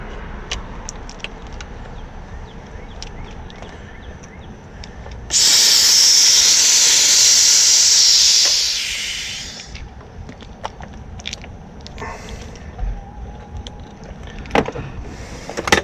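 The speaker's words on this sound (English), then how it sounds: "Compressor's still steaming." Steam hissing from an overheating AC compressor in a contaminated system: a loud, steady hiss bursts in partway through, holds for several seconds, then tapers off, leaving a quieter background with faint clicks.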